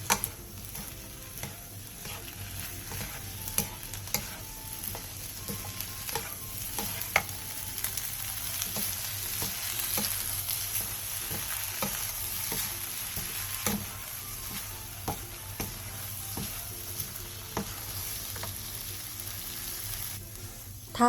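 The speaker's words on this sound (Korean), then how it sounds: "양파가 전체적으로 투명해졌으면 굴소스 반스푼, 간장 1스푼, 설탕 1티스푼을 넣고 양념이 골고루 어우러지도록 약 2분 정도 더 볶아주세요" Onions frying in a pan with oyster sauce, soy sauce and sugar make a continuous soft sizzle, broken by frequent scraping and stirring clicks from a utensil, moderately quiet throughout with no speech.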